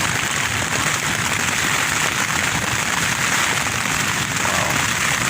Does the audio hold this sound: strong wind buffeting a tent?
yes